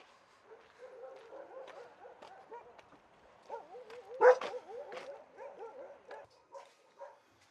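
Dogs yip, whimper and bark in short, scrappy bursts, like a scuffle, faint and somewhat distant, peaking briefly midway.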